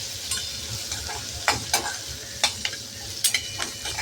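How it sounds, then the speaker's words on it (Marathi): Chopped onion sautéing in a pan for a traditional Khandeshi dish, with a steady soft sizzle and several sharp spatula scrapes and taps scattered throughout, close and clear without talk. "कापलेला कांदा आपण परतून घेणार आहोत"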